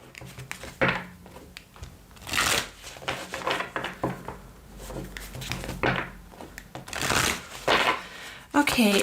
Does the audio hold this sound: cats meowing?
no